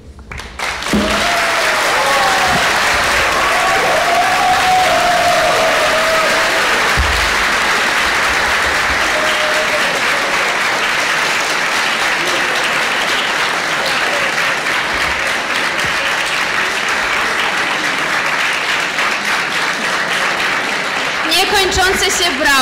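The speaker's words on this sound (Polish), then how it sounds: "Brawa." Loud, sustained applause from a large crowd at a school election debate fills the room for about twenty seconds, with a few voices faintly audible beneath it.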